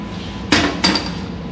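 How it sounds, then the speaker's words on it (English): An Eastwood slide hammer pulls a dent from a metal part, giving two sharp metallic knocks about a third of a second apart, close and clear over a low background hum. "then use the slide hammer in the action"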